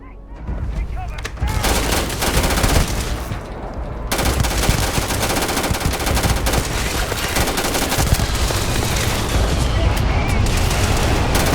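Dense, sustained automatic gunfire and rapid shots in a Starfield video game firefight, loud and nearly continuous with bursts overlapping, while faint voices come through underneath.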